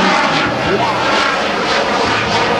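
An F/A-18F Super Hornet flies slowly during an air show demonstration at the 2009 Joint Services Open House, producing a loud, steady jet roar throughout.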